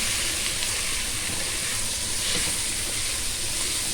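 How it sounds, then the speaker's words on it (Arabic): Carrot, peas, garlic and tomato fry together in a pan for shrimp biryani, giving a steady, even sizzling hiss that runs unbroken from start to finish. "صار احط الطماطة هم نخليه يحمس"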